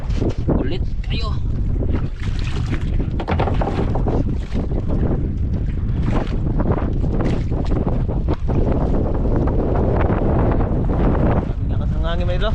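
Strong wind roars over open sea in a continuous, loud blast that buffets the microphone, with choppy waves nearby. Voices are faintly present under the gusts.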